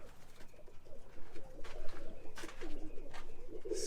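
Birmingham Roller pigeons coo softly from a loft holding about ten young birds, low repeated murmurs running steadily through the whole stretch with faint outdoor background.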